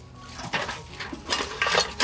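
Metallic clanks and scrapes of a cooking pot being moved and handled, several irregular knocks close by, with bursts of rattling noise.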